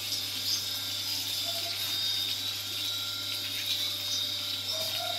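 Tap water runs in a steady, continuous stream during a bath, with a constant low hum beneath the flow and no voices over it.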